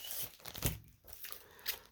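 Crinkly plastic comic-book poly bag rustling and tearing open in a few quick bursts, close by, with no voices.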